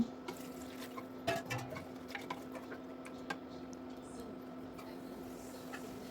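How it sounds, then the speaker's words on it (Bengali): Water is poured into a cooking pot on the stove while preparing a home-cooked lunch: a short, faint splash and trickle with a few soft ticks, heard close against a steady low background hum. "তো এবার দিয়ে দিলাম পরিমাণ মতো পানি"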